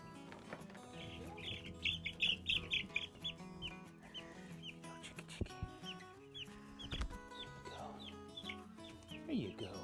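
Meat chickens at a feeder cluck and chirp in soft, scattered bursts, faint and close, with small knocks and rustles from pecking mixed in.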